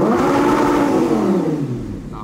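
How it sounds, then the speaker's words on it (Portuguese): A hot car engine revved hard up close, a loud sustained roar that sweeps upward and then slowly drops as the throttle eases off. "O motor tá quente já, acabei de andar com o carro"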